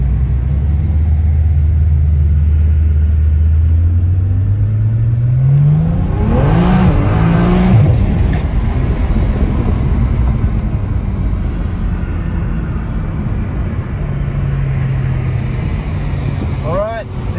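Tuned cars pull hard in a 17T versus 19T race, engine tones climbing and sweeping upward together before settling into a steady loud roar with a fainter second rise near the end.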